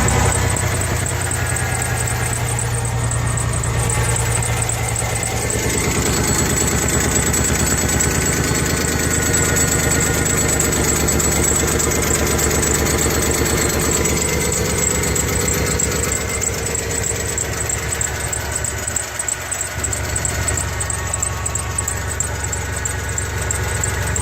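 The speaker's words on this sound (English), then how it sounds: "I'm gonna fire her up, see what happens." A 4.9-litre straight-six engine idles steadily after fresh injectors and gaskets, a continuous close rumble with light mechanical ticking running unbroken throughout, no talk over it.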